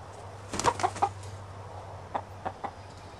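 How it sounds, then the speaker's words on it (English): A chicken clucking nearby in a few short bursts over a low steady background hum. "Go away, chicken."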